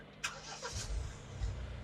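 A Mahindra Thar manual diesel cranks briefly and catches, settling into a low, close engine rumble for under two seconds.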